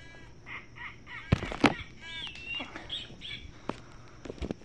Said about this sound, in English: Snowy owl.